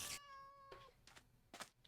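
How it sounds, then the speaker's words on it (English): A Minecraft cat in a ComputerCraft modded game gives a clear, tonal meow, followed by a couple of softer, brief cat sounds, faint and isolated with no talking. "That cat, the poor cat sounds so lonely."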